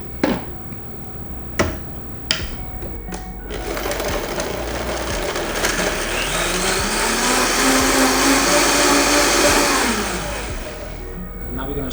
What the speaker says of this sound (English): And we're gonna blend.